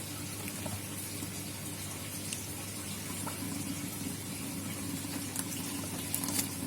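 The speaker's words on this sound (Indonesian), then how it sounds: "Kemudian kita siram aja." Water pouring steadily from above onto a banana plant in an aquaponic container set over a bucket, a continuous close splashing and trickling stream with no talk.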